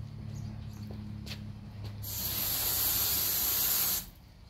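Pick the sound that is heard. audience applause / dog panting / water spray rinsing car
water spray rinsing car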